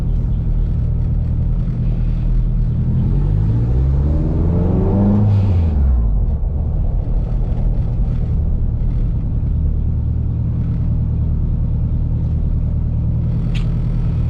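Steady drivetrain rumble and road noise from a K20 turbo-swapped Honda EF sedan driving around a block, with a sweeping whine rising and falling mid-clip, continuous and fairly loud, no talking.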